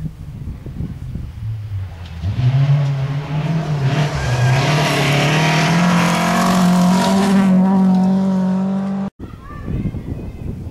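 Rally car on a gravel special stage of the Dackefejden 2011 rally, engine loudly revving and rising in pitch as it passes close for several seconds, with wind noise, and people talking near the microphone before and after.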